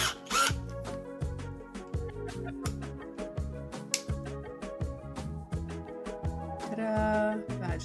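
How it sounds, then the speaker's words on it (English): A power drill whirs steadily nearby, its motor pitch shifting in stuttering pulses as an eighth-inch bit bites into wood, with a brief rising whine near the end. "gonna drill out now with my drill"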